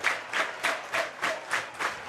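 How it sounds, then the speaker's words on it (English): A raucous crowd claps and cheers at an amateur summer baseball game in White Center, Seattle, in rhythmic bursts of applause that swell and fade about every half second, with no talk over it. "Just a raucous crowd here in White Center right now."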